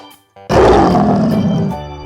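A white lion at Lembang Park & Zoo gives one loud, close, gravelly roar after a brief quiet moment. The roar holds strongly for over a second, then trails off into faint background noise.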